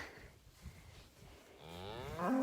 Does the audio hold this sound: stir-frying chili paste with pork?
no